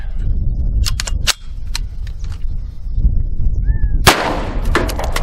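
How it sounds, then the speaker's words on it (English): Gunshots from a CZ Scorpion Micro EVO 3 S2 pistol firing hollow point rounds at an outdoor range, several sharp loud reports spaced irregularly, with one heavy blast late and a ringing tail. "Of course, I'm gonna shoot a hollow point."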